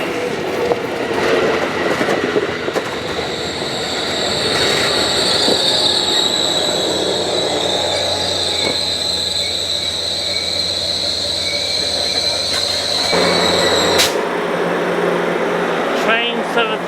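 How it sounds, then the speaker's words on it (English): A train rolls past close by near Santa Susana Depot in Simi Valley, loud and continuous with grinding rail noise and high wheel squeal for most of the passage before cutting off near the end. "Train 774 now headed to San Diego."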